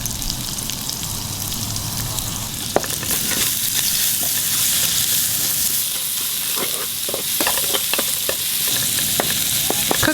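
Chopped garlic and sliced ginger sautéing in hot oil for a green bean and chicken wing stir fry: a loud, dense, continuous sizzle with sharp crackles and occasional scraping stirs, close up, no talking.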